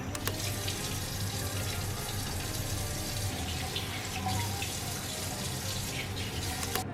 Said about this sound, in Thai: เราล้างหน้าเสร็จเรียบร้อยแล้วนะคะ